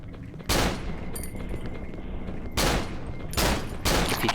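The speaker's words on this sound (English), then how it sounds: "Gun him down and then knife him." Gunfire in the horror video game Cry of Fear, loud close shots in separate blasts over a constant noisy game background, with no talking.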